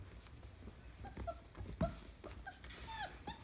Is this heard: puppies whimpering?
yes